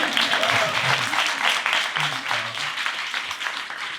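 Audience clapping at a Black Abundance 2020 talk, a steady mid-level patter of many hands lasting a few seconds, with voices murmuring underneath.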